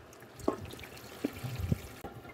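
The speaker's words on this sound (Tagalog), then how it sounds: "Lagyan na natin ng tubig." Water poured into a cooking pot of tahong guisado soup with seasoning granules and pepper, a short close splashing trickle lasting about two seconds.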